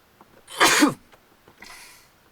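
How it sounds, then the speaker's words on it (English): A single loud sneeze bursts out close to the microphone, followed by a soft exhale in an otherwise quiet room. "I gotta sneeze."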